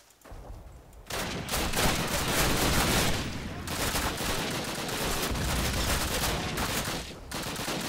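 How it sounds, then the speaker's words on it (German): Gunfire and a grenade blast in Call of Duty, loud sustained bursts of shooting and explosive noise after a quieter opening second, continuing with brief gaps to the end. "Schöne Granate reingeworfen."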